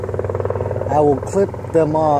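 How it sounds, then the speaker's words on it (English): Helicopters flying overhead a South Florida garden, their rhythmic rotor thump and engine drone pulsing steadily in the background while someone speaks over it up close. "We got helicopters flying around, excuse the noise."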